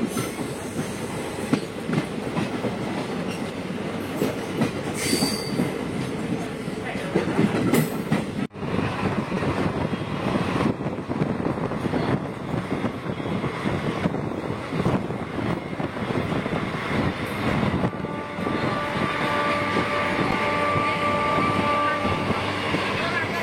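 A passenger train pulls out of Archipathar railway station after a one-minute halt, wheels clattering and rumbling loudly and steadily throughout, with occasional squeals and higher tones from the cars.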